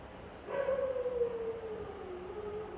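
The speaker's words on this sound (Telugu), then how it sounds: "బయట డాగ్స్ అరుస్తుంటే వీనికో టెన్షన్ కదరా." Dogs outside let out a faint, distant drawn-out howl that slowly falls in pitch over a quiet background hum, with no barks standing out and no voices.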